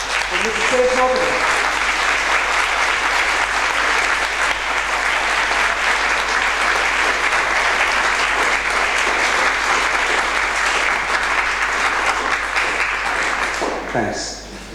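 Loud, sustained applause from an audience in Zagreb honouring writer Cees Nooteboom, dense clapping rolling on for many seconds before tapering off near the end, with a brief voice at the start.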